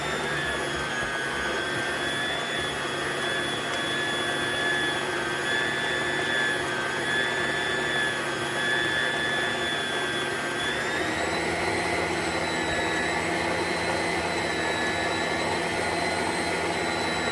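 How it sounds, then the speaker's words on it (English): A stand mixer runs at a steady medium setting, around speed 4, beating muffin batter, a continuous whirring motor drone with a slight shift in pitch partway through; no voices. "I've got this on probably just mixing mode, which on my mixer is about a 4."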